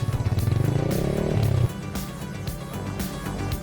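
A motorcycle engine runs steady and close on a mountain road up Gunung Cikuray, with a throbbing drone that eases off partway through into a lower, rougher idle.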